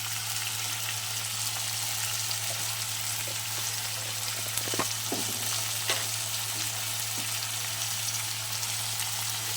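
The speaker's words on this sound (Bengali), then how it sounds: "চলো এবার হলুদ দিয়ে নাড়াচাড়া করে ঢাকা দিয়ে দেবো।" Pointed gourd fries in hot oil with turmeric, a loud, steady sizzle that fills the whole stretch, with a few faint clicks of a spatula stirring through it and a low constant hum beneath.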